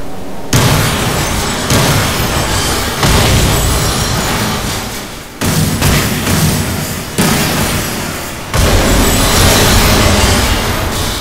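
Bombs explode in the Deadpool video game, loud heavy blasts that start abruptly and roar on as long rumbling bursts, several in succession separated by brief drops in level.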